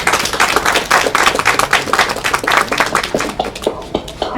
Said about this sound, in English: Please give a huge round of applause for her.